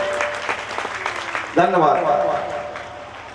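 An audience at a Shrimad Bhagavat Mahapuran katha gathering applauds to welcome the priest. The clapping breaks out partway through and continues beneath someone speaking over a microphone.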